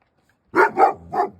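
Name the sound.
sled dog barking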